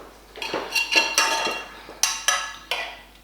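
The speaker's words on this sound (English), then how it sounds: "Let me just get a spoon." Metal cutlery and a spoon clinking against dishes in a home kitchen while macaroni cheese is mixed, several sharp close clinks and rattles in uneven bursts, with no talk.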